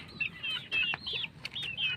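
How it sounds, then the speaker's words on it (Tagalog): Heat-stressed chicks with a slight wheeze call up close, giving a run of high, sliding peeps and soft clucks in quick, uneven bursts. "Yung mga sisiw natin nagkaroon ng kunting mga halak"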